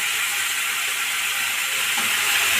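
Spinach stalks and tips dropped into a hot pan sizzle with a loud, steady, hissing fry that holds evenly from start to finish, close and unbroken.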